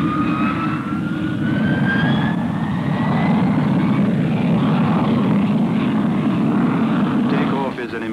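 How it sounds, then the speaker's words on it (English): English Electric Canberra jet bomber taking off on its Avon turbojet engines: a loud, sustained jet roar with a rising whine that builds and holds for several seconds before easing slightly at the end. "Takeoff is an impressive demonstration of the new Avon engines."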